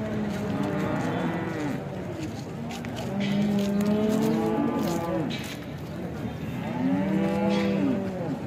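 Cows at a village cattle bazaar low in long, deep moos, three calls spaced a few seconds apart over a busy market murmur, close and clear.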